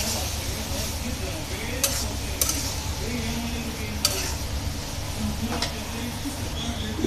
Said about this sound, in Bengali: এটাও একসাথে আমি কিছুক্ষণ নেড়ে ভেজে নিব